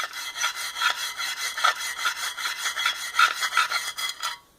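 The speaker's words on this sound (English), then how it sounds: "I always just take the wire brush and just go in here and scrub that front side down really good" Wire brush scrubbing the inside front of a preban 20-round USGI AR15 magazine, a rapid rhythmic back-and-forth rasp, close and steady for several seconds before stopping.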